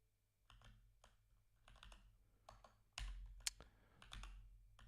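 Quiet typing on a computer keyboard comes in short irregular bursts of clicks, with one louder keystroke cluster midway and no talking over it.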